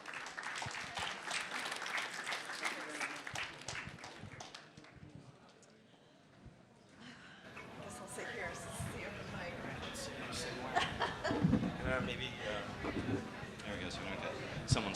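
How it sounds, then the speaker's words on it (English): Audience applause for a panel at the NFT.NYC 2022 conference in a large hall: dense clapping that fades to near quiet midway, then returns with scattered claps, shuffling and people talking. "Give them a round of applause."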